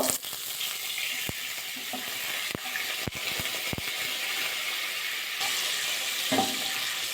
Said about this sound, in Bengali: সামান্য জল দিয়ে দেবো